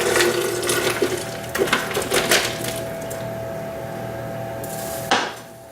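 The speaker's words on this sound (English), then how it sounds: "pour the soup in very slowly because it's very hot" Hot root soup poured slowly into a blender, a sloshing liquid stream with clinks of utensils and a pot against the container, ending in a brief louder clatter.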